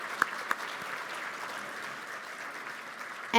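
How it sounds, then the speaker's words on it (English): Scattered applause from a breakfast audience at a leadership event, a fairly soft, steady patter of clapping at moderate distance, with a couple of sharper taps near the start and a louder sound at the very end. "If everybody would join me in a round of applause,"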